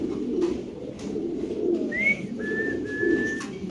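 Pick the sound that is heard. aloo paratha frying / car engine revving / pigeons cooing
pigeons cooing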